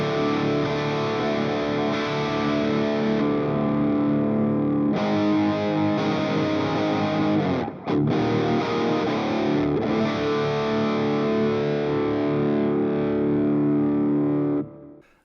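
Electric guitar through a Hughes & Kettner amp with the gain set as low as it goes, still distorted but articulate, notes ringing out in a sustained loud passage with a brief break midway and a cutoff at the end.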